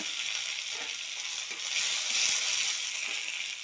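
Crushed garlic and curry leaves sizzle and fry steadily in a pan, a continuous close crackle with faint stirring scrapes and no talking.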